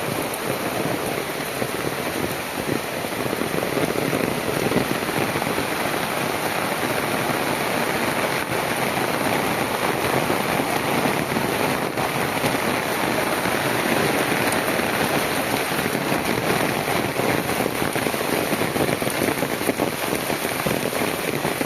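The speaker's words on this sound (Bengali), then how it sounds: "দেখুন কি বৃষ্টি আসছে, রাত্রি থেকে বৃষ্টি যা আসছে, এই বৃষ্টি আর থামতেছে না" Heavy, steady rain pours down in a village, a dense continuous hiss of drops on surfaces filling the whole scene at an even, unbroken intensity with no voices.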